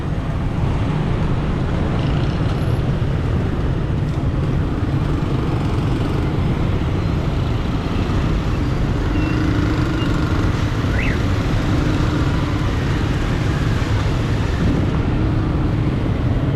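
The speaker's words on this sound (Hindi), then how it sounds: "ट्रैफिक जैम है" Street traffic jam on a rainy day in Karachi, a dense continuous rumble of engines and road noise that stays loud and steady, with faint higher sounds now and then and no talking.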